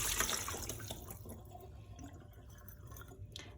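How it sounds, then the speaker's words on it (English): Soaked cashews being drained of their soaking water in a kitchen, a steady close pouring and splashing rush that softens slightly as it runs, with no talking. "So our cashews have soaked overnight, so now we drain them"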